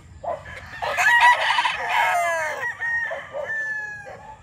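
A gamefowl rooster of the Raptor line crows nearby, one long drawn-out crow followed by shorter clucking calls, alone without talk.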